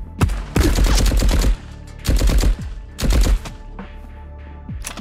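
Thompson submachine gun fired in the video game Marauders: three loud bursts of rapid automatic fire, the first longest, separated by short pauses, with no talking.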